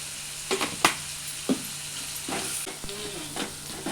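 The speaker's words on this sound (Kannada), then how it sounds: "ಇದಕ್ಕೊಂಚೂರು ಉಪ್ಪು ಹಾಕಿ ಫ್ರೈ ಮಾಡ್ಕೊಂಬ." Onions frying with salt and turmeric in a pan give a low, steady sizzle broken by a few spoon knocks and scrapes against the metal, close and fairly quiet, with no speech.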